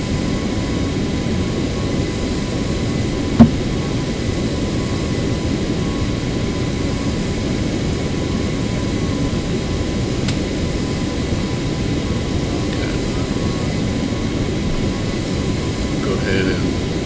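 Steady, droning engine hum of a small airplane in flight over icy Alaskan terrain, constant and fairly loud throughout from inside the cabin, with a brief click partway through.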